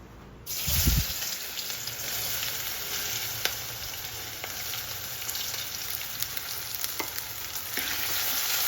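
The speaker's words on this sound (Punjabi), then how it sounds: "ਤੇਲ ਆਪਣਾ ਬਹੁਤ ਸੋਹਣਾ ਗਰਮ ਹੋ ਗਿਆ ਸਭ ਤੋਂ ਪਹਿਲਾਂ ਆਪਾਂ ਇਹਦੇ ਵਿੱਚ ਆਲੂ ਪਾਉਣੇ" Potatoes drop into hot oil for a Punjabi cabbage curry. A sudden loud splash and burst of sizzle are followed by a strong, steady crackling fry that continues close and unbroken, with occasional pops and no talking.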